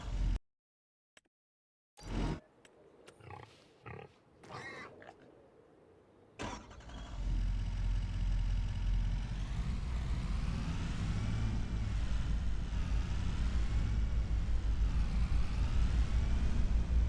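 In Farming Simulator 25, a truck engine cranks with a few sputtering bursts after near silence, then catches and settles into a steady rising drone as the truck drives off.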